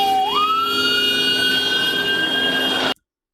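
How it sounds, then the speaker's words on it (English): A police car siren wails loudly close by, its steady tone sliding upward and holding, then cutting off abruptly. "we have another car pulling up with his lights and siren on"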